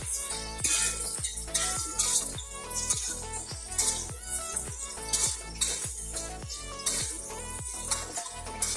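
Galangal, lime leaves, bay leaves and lemongrass being stir-fried in a pan for crab soup, a steady rhythmic scraping and clinking of a utensil against the pan with a soft sizzle beneath, close and alone.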